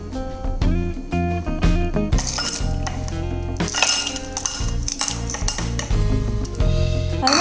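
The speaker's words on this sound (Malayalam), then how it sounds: "ഇനി നമ്മുടെ ഐസ് ക്യൂബ്, ക്രഷ് ചെയ്ത ഐസ് ക്യൂബ്" Crushed ice cubes are dropped into a glass with mint leaves for a mojito, giving bright, dense clinks and rattles in quick irregular bursts close up, loud and without talk.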